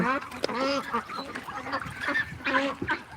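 Ducks at a duck farm call in a busy flock, with repeated nasal quacks and honks overlapping one another and a voice faintly mixed in among them.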